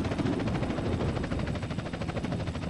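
Helicopter flying in GTA San Andreas Multiplayer, a loud, close, rapid rotor chop pulsing steadily over a dense engine roar throughout.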